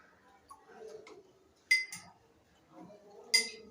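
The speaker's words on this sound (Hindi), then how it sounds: "इसमें से इसी चम्मच से हम 30 चम्मच निकालते हैं" A spoon scoops drinking water into a glass, with a few sharp bright clinks against the rim between quiet pauses and faint handling sounds, close and fairly soft.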